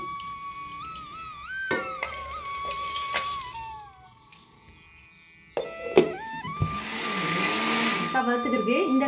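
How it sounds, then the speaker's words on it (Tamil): A mixer grinder grinds red poha and jaggery, its whirring motor coming in two loud bursts separated by a quieter pause, with tonal background sounds running throughout. "ஸ்டேஜில் நம்ம எடுத்து வச்சுருக்க வெள்ளத்தையும் அது கூட சேர்த்து அரைச்சிடுவோம்"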